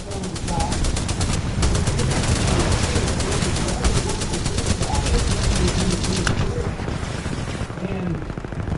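Sustained, loud rapid gunfire while engaging a hostile Titan in Titanfall 2 on PS4, with dense, continuous bursts and heavy impacts rolling on for several seconds.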